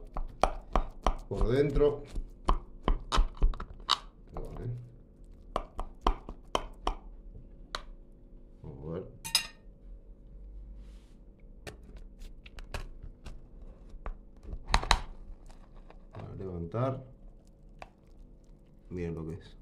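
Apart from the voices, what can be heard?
knife cutting a portion of pork lasagna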